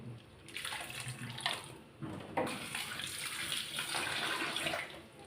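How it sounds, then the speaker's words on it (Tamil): Dissolved tamarind water is poured into a pot for a fish curry in a home kitchen, a close splashing, gurgling liquid pour in several uneven surges with brief pauses between them. "இப்போ நான் புளியை கரைச்சி இதில் ஊற்றிக்கிறேன்."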